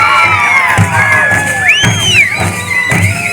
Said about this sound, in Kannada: ಜೋರಾದಂತ ಒಂದು ಚಪ್ಪಾಳೆ ಬರಲಿ ಪ್ರೇಕ್ಷಕರೇ